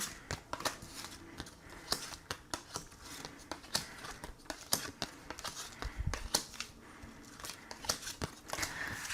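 Tarot cards are shuffled and drawn by hand for a daily reading, with close papery riffles, snaps and soft slaps in quick irregular bursts, no talk.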